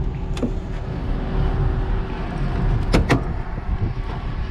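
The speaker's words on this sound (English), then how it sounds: "Barn doors here in the back open and plenty of cargo room." Rear barn doors of a 2021 Ram ProMaster low-top wheelchair-accessible conversion van open with sharp metallic clunks and latch clicks, one early and a pair near the end, over steady outdoor background noise.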